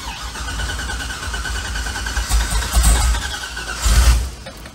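Corvette engine cranking on a starter during a repeated attempt to start a totaled car, a steady churning drone with louder surges near the end and no catch.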